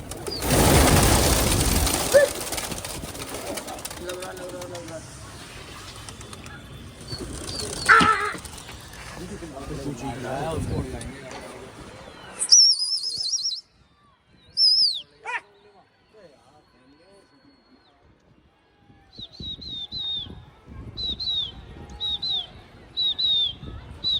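Pigeons during a pigeon-fighting event: a loud flurry of flapping wings, then short high cooing and chirping calls with gaps of quiet, with voices and a dog whimpering nearby.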